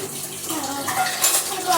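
Tap water runs and splashes during dishwashing, a brief close stream with light clinks and a faint voice in the background.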